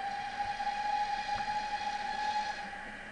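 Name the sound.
train running in a horror video game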